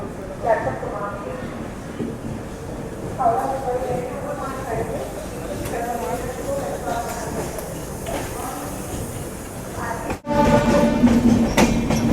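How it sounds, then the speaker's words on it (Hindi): The Korba Express rumbles into Bilaspur railway station with rhythmic clatter and a brief horn, while someone talks over the steady noise of the platform. "कोरबा एक्सप्रेस अराइव कर रही है बिलासपुर रेलवे स्टेशन पे।"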